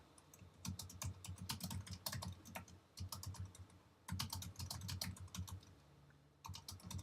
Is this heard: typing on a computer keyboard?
yes